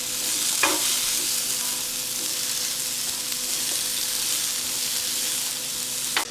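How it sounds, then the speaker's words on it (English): Onions sauté in a pan with a steady, bright sizzle, close up, while a utensil stirs and scrapes a couple of times, with no voices. "Just want to saute it a little bit before you add the other ingredients."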